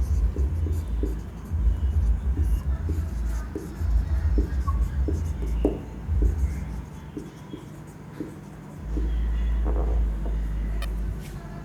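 Chalk taps and scratches across a classroom board in short, irregular strokes, moderately close over a low background rumble and hum.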